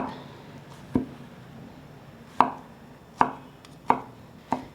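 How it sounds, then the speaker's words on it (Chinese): A knife dices king oyster mushroom on a cutting board, giving five sharp, separate chops at uneven intervals with quiet gaps in between. "剩下尾部切成丁状，就必须要切片、切条，再切丁了。"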